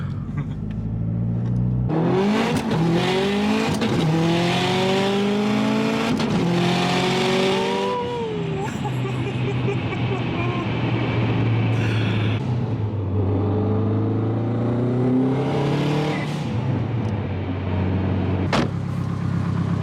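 A Subaru WRX STI revving hard and accelerating up through the gears, the engine climbing repeatedly with shifts between, loud and close, ending with a sharp cutoff.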